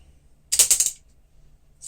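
Tab being set on a 1959 Olympia SM4 manual typewriter: a short burst of close, crisp ratcheting metal clicks, four or five in quick succession, then quiet and a faint tick at the end.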